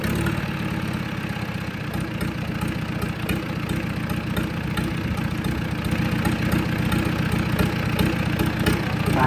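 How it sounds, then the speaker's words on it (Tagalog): An old diesel engine, freshly overhauled and restored, runs steadily at idle with a continuous low rhythmic knocking throb, loud and close, with no voices over it. "umandar na ho yung in-overhaul niyang makina"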